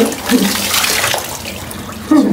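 Water pours and splashes steadily and close by during a pre-wedding bath, with a brief voice heard near the start and again at the end.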